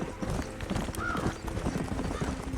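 Rhythmic hooves clip-clopping on hard ground inside a video game, steady and close with a brief whinny-like tone partway through, over a busy game soundscape.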